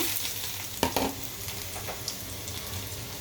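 Chopped garlic and blackened dried chili fry in oil for haleem, a steady close hiss of sizzling with a couple of soft stirring knocks partway through.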